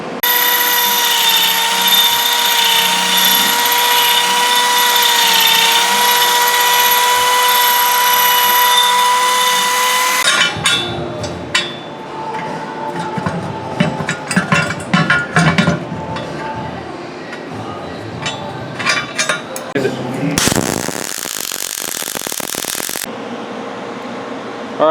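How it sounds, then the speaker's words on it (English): A Harbor Freight Vulcan 215 welder laying a beginner's first weld on a small part: after a steady electrical hum comes about ten seconds of loud, close crackling and sputtering arc noise, then brief clatter and another burst. "so that was Jesse's first weld there on this little part"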